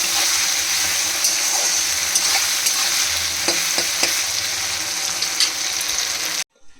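Onions frying with mutton fat in a pan, a loud steady sizzle with scraping stirs and occasional clatters, ending abruptly in near silence with a last faint bump.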